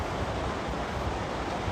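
Sea waves at the shore in Digos City, a steady low rushing wash with some wind noise, fairly faint and continuous throughout, with no talking.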